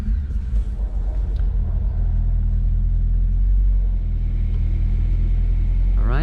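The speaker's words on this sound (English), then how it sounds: "I'll start it up so you guys can hear it" An ALPINA B5 S Touring E61 sits with its engine running, a steady, loud low rumble and idle throughout with no voices, ending in a brief rising rev.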